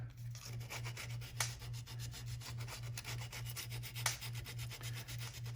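Sandpaper rubbed by hand along the edges of a wooden marking gauge, a steady rhythmic scratchy back-and-forth sanding, close and fairly quiet, with no talk.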